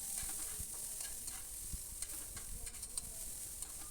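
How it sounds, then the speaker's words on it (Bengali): Chopped chili and onion fry in a hot pan, giving a steady sizzle with occasional scraping and stirring clicks from a utensil, close and continuous. "এবার লঙ্কাটা আর পেঁয়াজটা একটু ভালো করে ভেজে নিচ্ছি"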